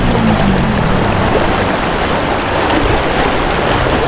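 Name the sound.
strong current of a river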